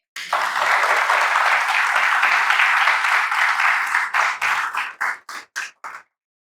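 A church congregation gives the Lord loud applause, a full burst of clapping that breaks into scattered single claps and ends abruptly.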